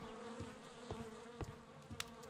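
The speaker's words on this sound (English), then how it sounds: "There's bees everywhere" Bees buzz around Kew Gardens in the video game Sherlock Holmes: Crimes & Punishments, a soft, continuous insect drone with wings swelling and passing close now and then.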